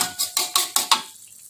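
Sweet and sour sauce stirred in a pan, six rhythmic scraping strokes in quick succession, close and clear, then fading to quiet.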